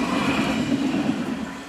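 A Nottingham tram rumbles steadily past a level crossing at Brickyard Lane near Hucknall, a close continuous rolling noise with no voices.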